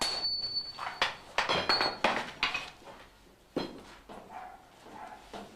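A steel block for a Japanese sword is hammered to stretch it, giving a series of sharp metallic strikes in an irregular rhythm with bright ringing overtones, close and fairly loud, with no talk.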